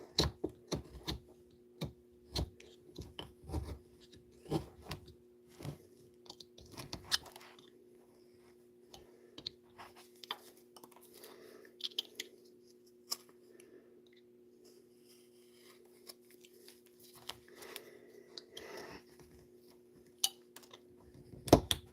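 A hand carving tool chisels cuts into a block with crisp, intermittent scraping and crunching strokes, close and fairly quiet, busier at first and then sparser, with no talk.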